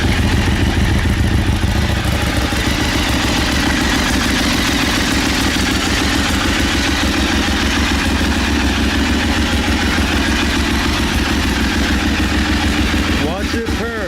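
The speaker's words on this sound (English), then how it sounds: "It's pretty loud for a stock motorcycle." A stock Ducati motorcycle idles loudly and steadily up close, its low, lumpy engine note running continuously with mechanical clatter, while a voice talks over it.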